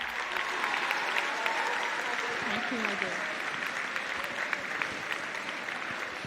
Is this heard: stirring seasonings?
no